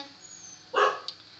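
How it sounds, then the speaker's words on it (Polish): A dog gives a single sharp bark, loud and close, followed by a softer short yip, with a quiet room behind it. "przepraszam za mojego psa"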